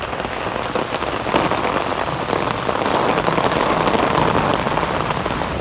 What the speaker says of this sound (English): Rain's really coming down now.